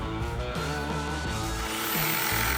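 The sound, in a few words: jigsaw cutting wood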